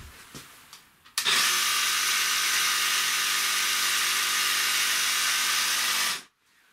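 A jigsaw set on a table and run at its seventh speed setting starts abruptly with a loud, steady high-pitched whine and buzz, holds level for about five seconds, then cuts off and winds down. No one speaks over it.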